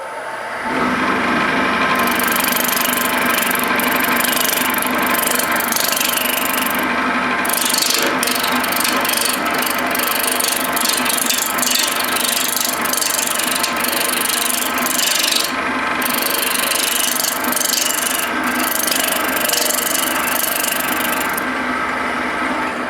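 A wood lathe turns a wooden spindle in multi-axis spindle turning, with a tool cutting away wood. A loud, steady grinding and ratcheting runs almost the whole time with brief dips where the lathe stops and restarts. No one speaks.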